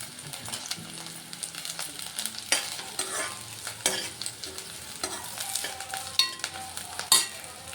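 Onions, green chilies and curry leaves fry in a pan, making a moderate sizzle nearby. Several sharper bursts of stirring scrapes stand out against it, and nobody talks.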